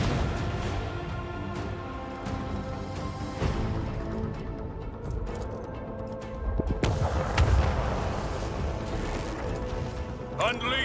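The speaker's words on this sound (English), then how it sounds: "I want to hear the macro cannons roar." Heavy booming macro cannon blasts in the video game Warhammer 40k: Rogue Trader roll continuously, dense and rumbling, with layered explosions and mechanical clatter filling the whole stretch.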